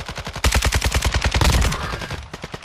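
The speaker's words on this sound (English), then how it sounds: "this AK is going super hard right now" A Kastov 762 AK rifle firing in the video game Modern Warfare 2, heard as a long, rapid full-auto burst of evenly spaced, punchy shots, loud and close, trailing into a few scattered shots with no voices.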